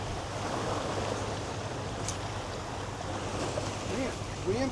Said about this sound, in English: Man, wind's catching me too bad.